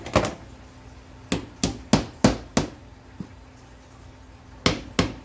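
Sharp hammer blows drive nails into beadboard panels in a kitchen, striking in irregular clusters, loud and close, with short pauses between groups of hits and no talking.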